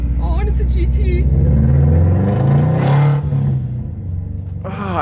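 A Ford Mustang GT drives with a deep engine rumble that swells and then eases off, while someone talks loudly over it throughout.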